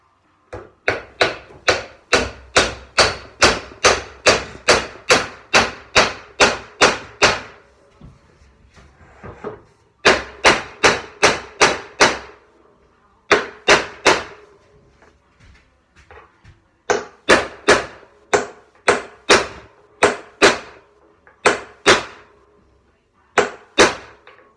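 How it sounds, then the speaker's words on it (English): Hammer blows on a wooden step during carpentry work, loud close knocks in quick steady runs of about a dozen strikes each, separated by short pauses, with no talking. "where my hammer hit the step there"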